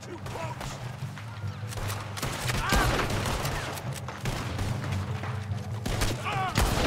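Gunfire from the Western video game Red Dead Redemption 2, with several sharp shots and bursts spread across a steady background of game music and ambience, at moderate loudness.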